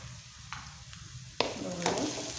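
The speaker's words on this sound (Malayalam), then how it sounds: "ഇനി അത് ഒന്ന് വഴന്നതിന് ശേഷം നമുക്ക് തുറന്ന് ഇളക്കി കൊടുക്കാം." Sliced onions sautéing in a pan for a Kerala beef chilli curry, a soft steady sizzle with a few clinks and a louder scrape of stirring midway, close and without talk.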